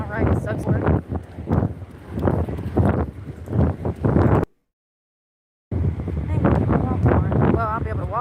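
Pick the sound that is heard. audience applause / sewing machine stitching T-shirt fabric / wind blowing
wind blowing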